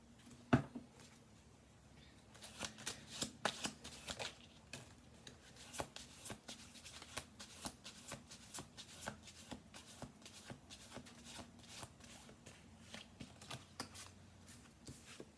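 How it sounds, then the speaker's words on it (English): Tarot cards shuffled by hand on a table, with repeated crisp riffling and flicking bursts that keep going steadily throughout, close and fairly quiet, with no talk. "we're going to do 2 more shuffle throughs"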